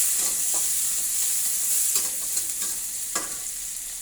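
Onion and tomato sautéing in a pan, a soft steady sizzle with a few sharp scrapes of stirring, close and uninterrupted by voices.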